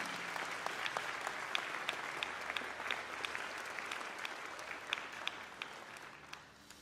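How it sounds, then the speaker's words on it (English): Steady applause from a crowd at a memorial service in Chesterfield, Virginia, a dense wash of clapping with scattered sharper claps, sustained and fairly distant for about seven seconds without speech. "please give a round of applause for his brother, Leon."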